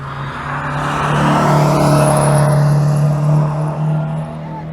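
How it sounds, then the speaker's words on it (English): A BMW 02 race car's engine roars close by at Goodwood Motor Circuit, pitch holding and swelling as it drives hard past, loud and sustained before easing off. "BMW O2, pushing it hard."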